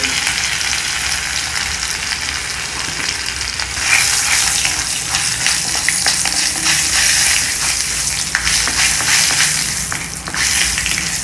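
Cumin seeds and asafoetida sizzle in hot oil with urad dal while tempering for a home-style curry leaf kuzhambu, a loud, steady close-up crackle that swells slightly partway through.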